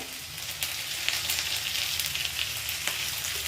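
Curry leaves crackle and sizzle in a hot pan of tomato masala for butter paneer masala, a steady, close, dense frying hiss with scattered sharp pops and no voices.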